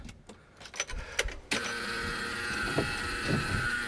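A diesel engine on Project Pugly cranks briefly, then catches and settles into a steady, close, loud idle with a faint uneven shudder after refuelling.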